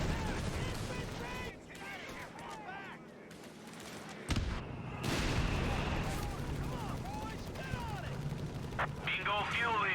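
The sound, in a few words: artillery barrage in Company of Heroes 3, video game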